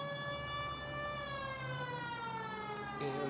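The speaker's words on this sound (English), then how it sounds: "Put the siren on." A wailing police car siren from a detective video game, steady rising and falling harmonic tones sounding loud and continuous throughout, with no talking over it.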